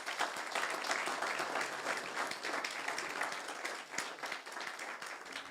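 A church congregation claps steadily during a sermon, a continuous round of applause heard at moderate distance and fairly quiet, with no speech over it.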